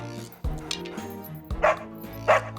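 A robot fire dog in the Fireman Sam cartoon gives a few yipping barks and whimpers, close and fairly loud, set against a low musical hum with sharp thuds between them.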